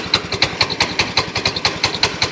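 An old 7-horsepower Chrysler outboard-style engine with electronic ignition idles while warming up, a steady close chugging with regular rhythmic pulses about five per second and no talk.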